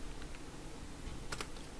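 Keys on a computer keyboard are typed in a short burst of a few quick clicks, faint against steady room noise while someone codes.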